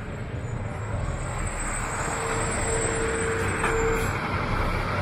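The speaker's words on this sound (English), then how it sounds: "And lots more transport trucks." Transport trucks roll past on a road in a steady, moderately distant rumble of traffic, with a faint brake squeal midway and no talking.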